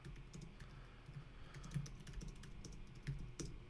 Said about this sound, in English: I want to see how fast I can type.